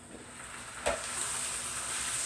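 Fresh spinach wilting in a hot pan with roasted garlic and butter, a soft steady sizzle that swells after a brief clatter, close and continuous with no voices.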